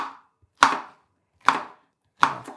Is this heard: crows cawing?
no